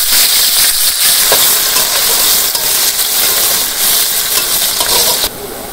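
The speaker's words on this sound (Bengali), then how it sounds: "এখন এই পেঁয়াজ কুচিগুলো দিয়ে দিই।" Chopped onions dropped into hot oil in a village kitchen, set off by bay leaf and cumin, crackle and hiss in a loud, dense, continuous sizzle that eases slightly at the very end.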